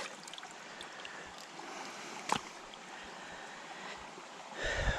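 Water flowing steadily in a Carpathian mountain stream, a soft continuous rush with a brief splash or knock midway, heard close by.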